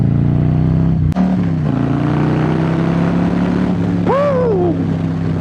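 Harley-Davidson 2020 Low Rider S sporty cruiser motorcycle with a loud, steady engine drone close by, a sharp click early on, then a rising-and-falling rev swell near the end.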